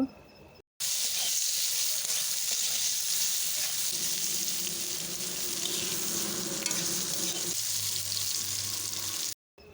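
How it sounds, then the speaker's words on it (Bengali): Brinjal frying in oil with salt and turmeric hisses in a steady, dense sizzle while being stirred, close and continuous for several seconds between brief cuts of silence, no speech. "লবণ আর হলুদ গুঁড়ো দেওয়ার পর ভালোভাবে নাড়াচাড়া করে ভেজে নেব"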